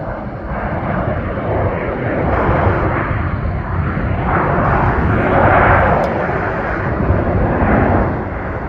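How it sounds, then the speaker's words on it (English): An American Airlines airliner arriving at Milwaukee airport roars loudly and steadily, the engine noise swelling slightly as it passes close by, with no talk over it. "Of course, this aircraft is more than likely coming in from Dallas Loves Field."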